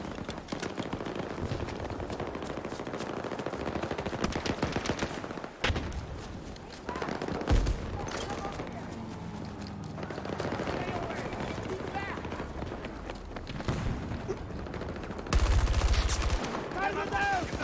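Rapid turret fire in Battlefield 2042 rattles in long dense bursts with brief gaps and a few heavier impacts, loud and close, while a player talks over parts of it.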